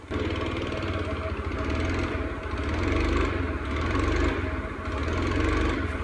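A Honda Scoopy scooter engine runs just after its carburetor was refitted, a loud, close, steady mid-pitched drone with a slowly swelling and easing rhythm and no speech over it.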